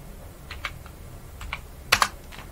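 Computer keyboard typing while entering data into an Excel salary slip sheet, a few sparse close key clicks with a quick double tap near the end, no talk.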